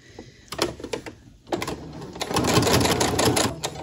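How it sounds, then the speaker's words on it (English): A sewing machine stitches fabric in short bursts, then settles into a fast, continuous mechanical stitching rhythm, close and fairly loud. "I'm going to stitch with about 1/8 inch seam allowance"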